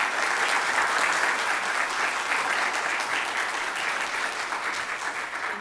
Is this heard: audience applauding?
yes